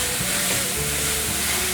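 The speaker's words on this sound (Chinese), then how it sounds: "锅内放入适量的油，把金针菇放进来炒香" Enoki mushrooms stir-fried in hot oil in a wok, giving a loud, steady hiss and crackle with faint scraping of the spatula underneath.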